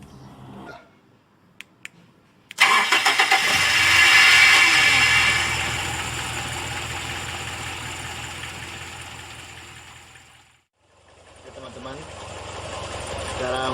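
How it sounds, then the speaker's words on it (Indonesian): A carbureted motorcycle engine is cranked with a few sharp clicks, catches and revs up loudly, then settles into a steady idle that briefly cuts out and resumes, close by with a voice faintly underneath. "Yang harus dilakukan adalah menghidupkan dulu kendaraan beberapa saat"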